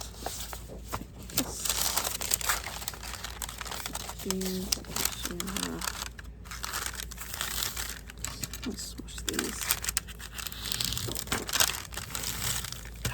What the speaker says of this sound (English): I love that sound. The crinkly paper.